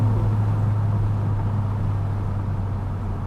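VW MK8 GTI fitted with an AWE exhaust, downshifting at about 4,000 RPM: a loud, steady, droning engine and exhaust rumble close up, with a deep, constant tone that eases slightly toward the end.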